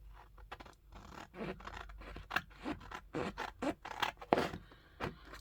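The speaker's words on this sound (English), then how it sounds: "scissors." Small scissors snip through paper in a quiet crafting session, a string of short crisp cuts and scrapes, close and soft, with no one talking.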